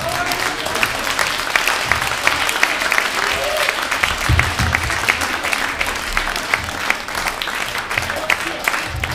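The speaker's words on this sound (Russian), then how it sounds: "Ребят, давайте похлопаем Майку Григоряну" A live audience at an opera night breaks into loud, sustained applause, dense clapping that carries on evenly without a break for the whole stretch.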